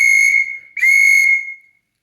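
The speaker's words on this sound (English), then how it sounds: "137-year-old Victorian-era police whistle." An 1887 Victorian-era police whistle blown twice, two loud shrill sustained blasts with a brief break between them, heard alone at close range.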